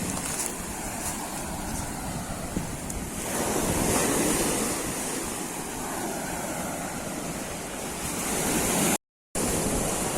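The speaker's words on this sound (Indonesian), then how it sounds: "ombak." Ocean surf rolls onto a tropical coastal shore, a continuous roar that swells in the middle and again near the end, with gusty wind buffeting the microphone and a brief dropout just before the end.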